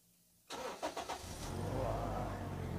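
A Toyota Kijang Innova engine cranks and fires after a short quiet moment, with a few quick starter pulses settling into a steady, loud idle close to the microphone.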